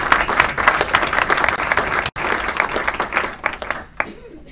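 Applause at a council meeting, a close, loud burst of many people clapping that breaks off briefly, resumes, and thins out toward the end.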